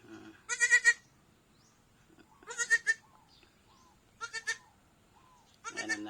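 Newborn baby goat bleating on a farm, four separate high, wavering cries at a steady pace with short quiet gaps between them, close by and fairly loud, no talking.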